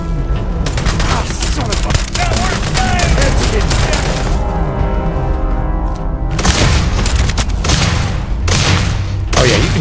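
Gunfire in the video game Starfield during a ship assault, loud rapid bursts and booming shots packed densely together, with a brief pause midway, while a player's voice speaks over the action.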